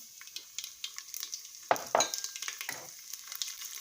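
Mustard, fenugreek, fennel and black cumin seeds fry and sizzle in a pot for Indian vegetarian food, a steady crackle with stirring scrapes and two louder bursts near the middle, no talking.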